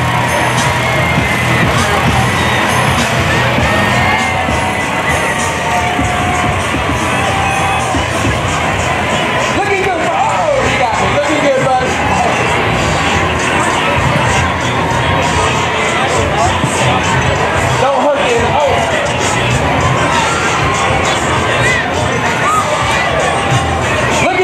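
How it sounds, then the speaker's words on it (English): Spectators at a Mardi Gras parade in Long Beach, Mississippi cheer, shout and clap loudly and continuously, with children's voices and general crowd babble under an announcer's amplified voice. "Big round of applause for the local folks,"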